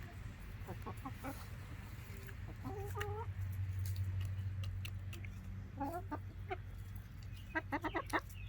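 Chickens cluck and chatter in short bursts over a low steady hum, several birds nearby calling on and off, with turkeys also present.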